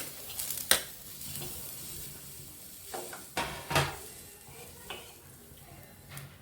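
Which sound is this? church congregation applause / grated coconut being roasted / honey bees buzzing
grated coconut being roasted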